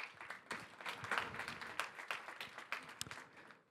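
A small conference audience claps as speakers are called up to a stage, scattered individual hand claps clearly separable, moderately close and uneven in rhythm, with no speech over them.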